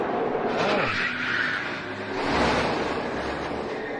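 A NASCAR race car wrecks and goes airborne at Talladega, a loud roaring engine and tire skid noise sweeping past, with a sustained rumbling crash-like roar filling the whole moment.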